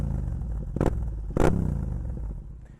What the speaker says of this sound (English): The Akrapovic exhaust, the only exhaust you can put on this bike, full exhaust